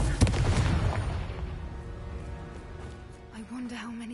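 A Confringo spell explodes in a video game battle, a sharp loud blast at the start that decays into rumbling debris, while a character speaks over the fading tail.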